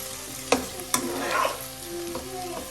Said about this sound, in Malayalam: എല്ലാം കൂടെ ഒന്നും കൂടെ ഇളക്കി ഫ്ലെയിം ഓഫ് ചെയ്യുക